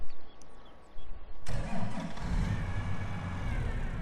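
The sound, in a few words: tractor engine starting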